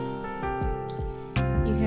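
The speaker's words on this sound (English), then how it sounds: "With scissors, you can cut the excess out right here." Scissors snip through excess paper on a handmade valentine, with several close, rhythmic cuts in quick succession and a heavier final snip, while a person talks over them.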